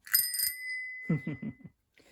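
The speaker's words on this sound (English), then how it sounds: "one of the most important components on any bicycle, and that is the bell." A vintage Hercules Commuter 3-speed ladies' bicycle bell dings twice in quick succession, its bright tone ringing out and fading, followed by a few soft low knocks.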